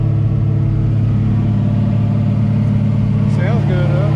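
An LS-swapped Chevrolet C10 pickup on a test drive with a voltage problem, its engine holding a loud, steady low drone heard from inside the cab, with a person's voice briefly at the end.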